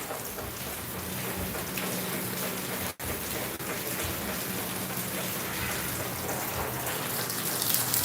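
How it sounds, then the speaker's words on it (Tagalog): Heavy rain pours steadily during a flood, a dense, loud, unbroken wash of drops on surfaces that fills the scene without any talk. "Lakas ng ulan."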